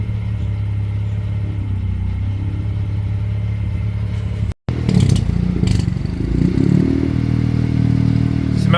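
An engine with a misfire idles, smelling of premix, a steady low rumble with uneven knocking, briefly cut out midway before resuming louder and rougher.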